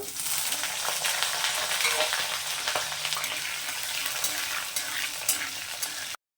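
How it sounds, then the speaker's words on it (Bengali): Pieces of potato frying in oil reused from earlier batches, a steady dense sizzle and crackle filling the whole stretch with a few brief clinks, close and even, no voices. "আলুগুলো ওই আমি একই তেলের মধ্যে ভেজে নেব।"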